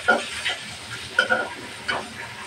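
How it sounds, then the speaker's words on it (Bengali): Chopped onions fry in a pan, stirred until browned, with a few spatula scrapes and knocks standing out over a faint, low sizzle. "পেঁয়াজটা লালচা করে ভেজে নিচ্ছি, তাহলে তরকারিটা বেশি মজা হবে।"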